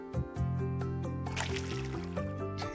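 A watering can splashes over crops in the farming game Coral Island, with soft liquid sploshes and drips over tonal background music.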